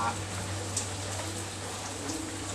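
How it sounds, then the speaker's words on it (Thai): Steady rain falls in a continuous hiss with faint scattered drops, under a low constant hum. "มันมีฝนตก ข้างหลังเสียงอาจจะไม่ได้ยินเท่าไหร่"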